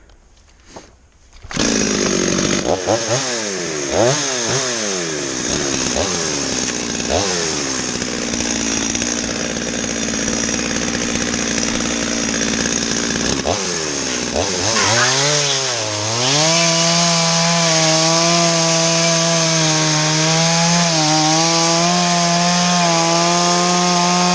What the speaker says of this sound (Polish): Dobra, ja odpalam sobie piłę